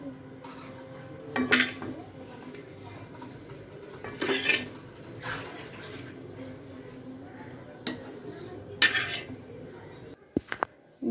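Cooked chicken bharta being scooped into a bowl, with a few sharp utensil clinks and scrapes against the dish at intervals over quiet kitchen background.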